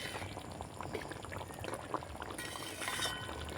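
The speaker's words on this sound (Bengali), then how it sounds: "দেখুন আমি ঝোলটা খুব ভালো করে ফুটিয়ে নিয়েছি" Thick gravy for an eggless vegetarian egg curry boiling in a pan, a dense close bubbling and sputtering that holds steady for a few seconds.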